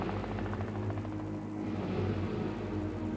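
A helicopter drones steadily overhead during a nighttime standoff, its rotor thrumming as a dense, continuous roar that stays loud and close throughout with no other sounds.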